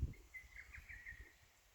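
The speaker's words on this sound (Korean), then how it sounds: "참 새소리도 좋고 물소리도 좋고" Birds singing along a mountain trail near a pond, a faint, distant thin warble lasting about a second over low outdoor background noise.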